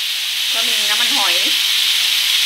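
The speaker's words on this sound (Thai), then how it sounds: "ใส่ไก่แล้วก็มาผัดให้หอม ผัดมาคั่วให้หอมเลย" Chicken stir-frying in a pan with seasonings for a Thai pad cha with eggplant, a steady loud sizzle and hiss throughout with a brief scrape of stirring, and no talk over it.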